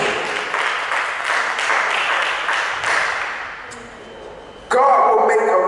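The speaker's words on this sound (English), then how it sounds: "Give God a hand clap of praise." A church congregation claps hands in praise, a dense wash of many palms that gradually thins and fades, then a sudden louder burst of clapping near the end.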